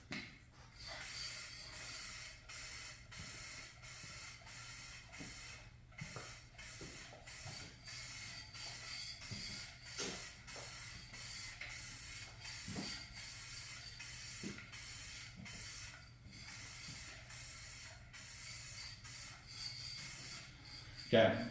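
An aerosol can sprays a light coat of paint onto a hood scoop for a 2019-or-later GMC Sierra 1500 in a rapid series of short, even hissing bursts, close and moderately loud, repeated regularly for about twenty seconds.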